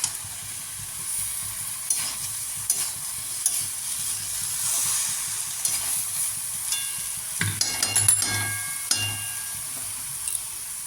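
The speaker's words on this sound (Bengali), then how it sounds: "বেগুনগুলো দিয়ে নাড়িয়ে নেবো" Eggplant pieces stirred into bottle gourd greens in a hot pan, a soft steady sizzle under scattered spatula scrapes and light clinks, with a brief cluster of clatter near the end and no voices.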